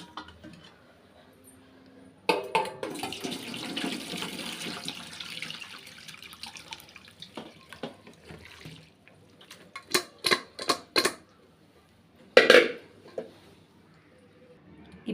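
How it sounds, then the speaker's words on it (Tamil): Water drains from cooked spinach for uppu saru, starting as a soft trickle and splash that runs for several seconds, then a series of short, sharp taps and a final louder clatter. "ஃபஸ்ட்டு இந்த கீரையில் உள்ள தண்ணியை நல்லா வடிகட்டிக்கலாம்."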